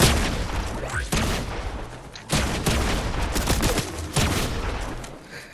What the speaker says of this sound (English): These two just shooting at each other.